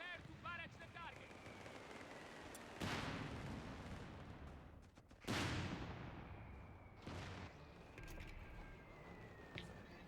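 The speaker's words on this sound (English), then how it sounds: "Tango 105, prepare to barrage the target" Artillery barrage in the Company of Heroes 3 strategy game: heavy booming shell blasts land a few seconds apart over a constant rumble of battle and scattered gunfire, with whistling incoming rounds and a voice speaking faintly underneath.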